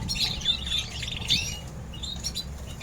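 A canary chirps in short, bright, high trills and tweets repeated several times over a low background rumble, close and moderately loud.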